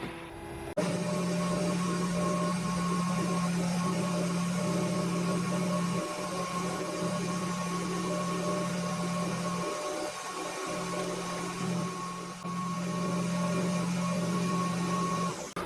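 Metal lathe taking a long cutting pass up and back on a Webster engine part, a steady close motor whine with a constant hum that briefly dips midway and resumes, no talk.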